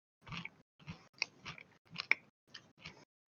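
Close, crunchy chewing of smoky food by someone wearing gloves, with several distinct bites and crunches in an uneven rhythm and short pauses between them, heard alone without talk.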